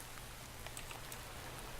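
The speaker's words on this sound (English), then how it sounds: "because this rain is going to get annoying" Steady rainfall in the video game Minecraft, a soft continuous hiss of drops with faint scattered patters, fairly quiet and unbroken throughout with no talking.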